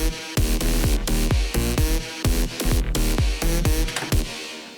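An electronic track stripped to kick drum and lead synth, deep pitched-down kicks thumping in a syncopated pattern under a bright, buzzy lead riff, loud and upfront with short gaps.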